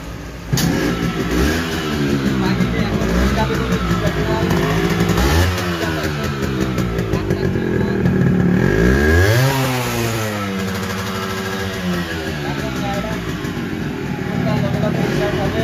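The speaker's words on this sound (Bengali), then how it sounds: "এবার আমরা গাড়িটাকে স্টার্ট করে দেখাবো যে গাড়িটা কিকে কিকে স্টার্ট নিবে" A Yamaha RX motorcycle is kick-started and then revved several times, its engine close and loud as it climbs and falls through repeated throttle bursts before settling into a steady idle.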